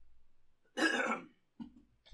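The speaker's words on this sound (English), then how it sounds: "I coughed away from the microphone, or cleared my throat anyway." A single close throat clearing, one rough rasping burst followed by a softer short grunt, alone in a quiet room.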